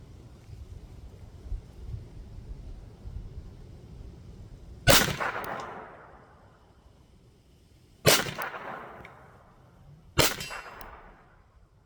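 Three sharp .22 LR pistol shots from a Glock 44 crack out at uneven intervals over a quiet outdoor background, each with a short ringing decay, the first and second spaced about three seconds apart and the third following two seconds later.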